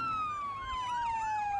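An emergency vehicle siren wails steadily and loudly through the whole moment, its tone sliding slowly downward over a low road rumble, with no voices present.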